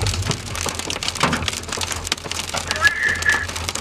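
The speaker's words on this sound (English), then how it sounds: "That's a good 3-inch hail." Large hailstones, around three inches across, pound down during a supercell storm in west Texas, making a dense, constant clatter of hard impacts close by, with faint voices underneath.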